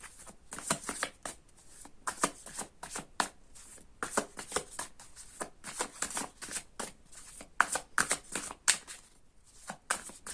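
Tarot cards shuffled and drawn by hand at close range: a quick run of crisp riffling flicks and snaps, bunched in bursts with short pauses, and no voices.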